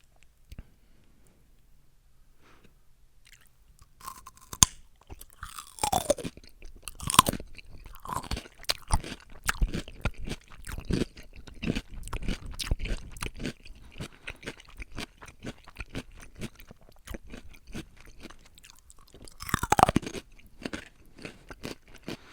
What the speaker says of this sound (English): I hope the open mouth chewing isn't too obnoxious.